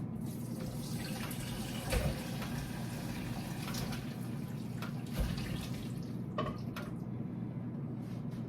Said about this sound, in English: And we're gonna take them over here and drain them. Drain our broth.